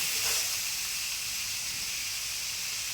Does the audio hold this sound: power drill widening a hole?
no